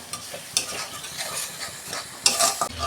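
Masala spice paste, loosened with a little water, is sautéed and stirred in a pan with brisk spatula scrapes over a close, lively sizzle. A louder scraping burst comes near the end, and no voices are heard.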